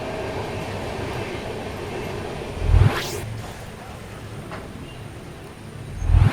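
Steady rolling rumble from aboard the 12706 Secunderabad-Guntur Intercity Superfast express near Guntur, past Mangalagiri, broken by two loud rushing whooshes, one midway and one at the end.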